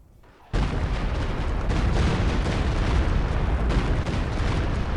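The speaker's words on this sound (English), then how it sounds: "oh no, a rocket's coming" A Walking Stuka rocket barrage in Company of Heroes 2 lands as a sudden loud, sustained roar of explosions that starts abruptly after a brief quiet moment and rumbles on without letup.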